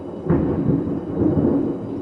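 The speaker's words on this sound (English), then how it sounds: "It is storming like crazy" A deep, continuous rumble of thunder from a heavy thunderstorm rolls on for the full stretch, low and steady with slow swells, with no voices over it.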